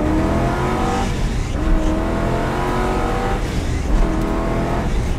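A 1963 Corvette convertible's V8 engine revs hard toward 6,000 RPM, loud and close, surging and holding at a high, strained pitch with slight dips.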